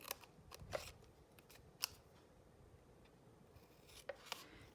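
Scissors snipping through card paper for a handmade shutter card, a few quiet, separate crisp cuts spaced out over a hushed background.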